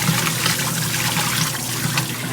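A Kenmore washing machine rinses a load of towels, with loud, continuous water sloshing and churning close by, steady throughout and with no voices.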